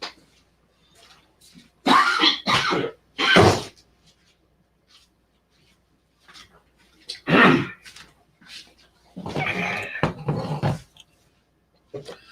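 Several harsh coughs and throat clearing in bursts, separated by quiet pauses, close and fairly loud, with no words spoken.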